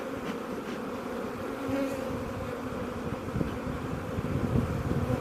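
A dense, continuous drone of honey bees buzzing around an open hive during an inspection of a very large colony, loud and close with a slight swell midway and no talking.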